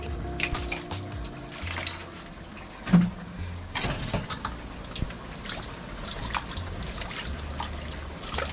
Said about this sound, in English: I'm going to tip a little water in it